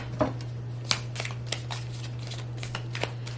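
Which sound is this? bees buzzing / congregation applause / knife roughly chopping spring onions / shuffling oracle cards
shuffling oracle cards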